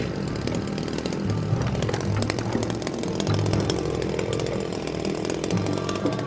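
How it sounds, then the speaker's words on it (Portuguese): A chainsaw cuts into soft limestone rock in New Zealand, its engine droning steadily and loudly for the whole stretch, with the gritty rasp of the chain grinding through stone and no one speaking. "cortando a rocha com uma motosserra."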